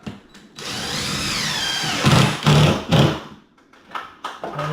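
A power drill drives a screw into a kitchen cabinet during installation, with a steady whirring run followed by three short, loud bursts and a brief final whir, close by and alone.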